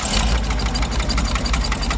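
A 1977 GMC 6500 truck's 366 big block V8 runs in a loud, close, rough low idle with a steady pulsing rumble.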